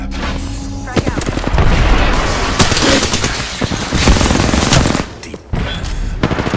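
Gunfire in the Apex Legends battle royale game, rapid automatic bursts and loud booms crowding together in a dense, continuous exchange, with voices calling out over the shooting.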